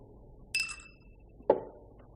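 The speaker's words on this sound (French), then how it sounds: "2 glaçons." Ice cubes dropped into a glass of scotch give two bright, close clinks about a second apart over quiet room tone.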